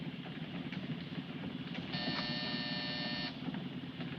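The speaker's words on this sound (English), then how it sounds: "Hit that buzzer." A door buzzer is pressed, sounding as a harsh electric buzz held for about a second and a half over a constant low rumbling background, with no talking.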